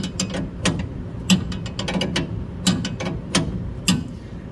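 Wrench turning to unload a coil spring on a 1965 Mustang suspension, a close series of metallic ratcheting clicks and knocks in uneven rhythm, with no talk.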